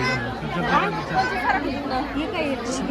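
Steady, close hubbub of a packed crowd at Kubera's temple village, many voices chattering at once with no single speaker standing out.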